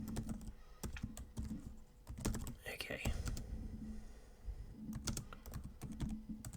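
Python code being typed on a computer keyboard: quick bursts of soft, close key clicks in irregular runs, with faint speech-like murmuring in between.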